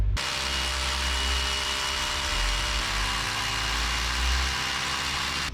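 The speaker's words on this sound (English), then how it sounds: "Sounds like a dump truck's here" Dump truck arriving at a shop, its diesel engine rumbling low and steady nearby with slight fluctuations in throb, no voices.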